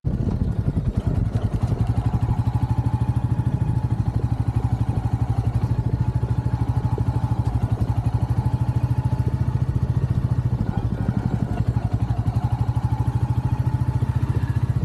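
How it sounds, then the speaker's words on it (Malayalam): A Royal Enfield Classic 350 ridden along a village road, its single-cylinder engine thumping in a steady, even rhythm, close and loud throughout, with no talking. "ഇപ്പോൾ നമ്മൾ ഈ റോയൽ എൻഫീൽഡ് ക്ലാസിക് ത്രീ ഫിഫ്റ്റിനെ ഓടിച്ചുകൊണ്ടിരിക്കുന്ന ഒരു ഗ്രാമീണ വഴികളിലൂടെയാണ്"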